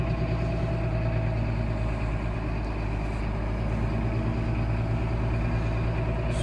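A new Massey Ferguson tractor's engine runs steadily at a low idle on a farm, a constant even drone with no changes in pace and no talking.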